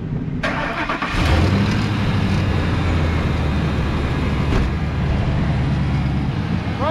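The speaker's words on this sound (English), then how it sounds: "You want to hear the rumble of the diesel" A diesel work truck engine rumbles in a steady, continuous drone close by, from a fleet of used work trucks.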